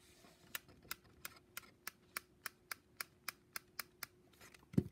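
Crisp, evenly spaced clicking taps, about a dozen in a steady rhythm, like two pens striking each other, ending with a duller knock.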